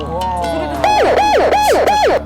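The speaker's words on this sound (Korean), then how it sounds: "경찰차라든가 이런 앰뷸런스가 갈 때 경광등이 달려있는 이런 앵앵거리는 소리가" A wailing emergency siren sweeps up and down rapidly several times, loud and close, following a short lower tone at the start.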